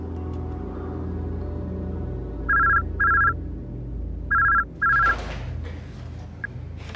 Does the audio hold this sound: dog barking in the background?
no